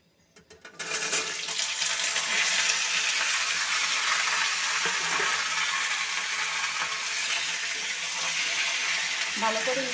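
Diced cucumbers with whole cumin fry in a pan, a steady loud sizzle and hiss that starts abruptly after a brief clatter and holds evenly throughout, with faint kitchen clinks near the end.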